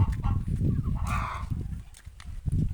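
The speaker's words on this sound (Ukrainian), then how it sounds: "Курка. Вон ще одна чубака несеться." Chickens cluck and murmur close by among other poultry on a farm yard, with a brief higher squawk in the middle and low rustling throughout.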